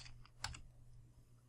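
A few quick, faint keystrokes on a computer keyboard, clustered in a short burst in a quiet room.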